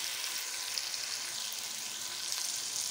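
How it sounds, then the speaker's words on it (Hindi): Chicken fries with garlic in a pan for potato chicken curry, giving a dense, steady crackling sizzle that stays close and even throughout with no talking. "10 मिनट तक हम चिकन की भुनाई करेंगे।"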